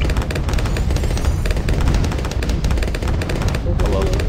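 Dense, continuous barrage of explosion and gunfire-like bursts from the Bloons TD 2 tower defense game, loud and unbroken throughout, with people talking over it.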